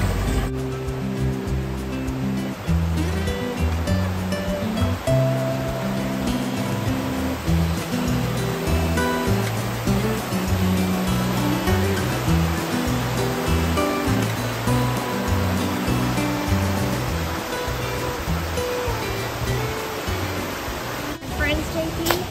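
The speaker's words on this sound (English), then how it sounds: "Look, a river runs through it." A river running through Mindo, Ecuador gives a steady broadband rush of flowing water that fills the whole clip, with voices talking over it.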